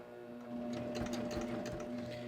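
A sewing machine stitches in the round, its needle running along the first row of stitching. It gives a quiet, steady mechanical hum with rapid rhythmic ticking that starts softly and then settles into an even run, with no voices.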